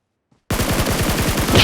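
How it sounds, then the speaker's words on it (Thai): Rapid automatic gunfire from a squad firefight in PUBG Mobile bursts in loud and sustained after a brief silence, a dense rattling volley of shots. "ตอนนี้ข้างหน้าเราเขายิงกันอยู่ 2 ตี้นะครับ"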